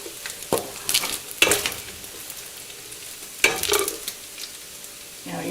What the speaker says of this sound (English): Now, you just want to scoop out your sausage.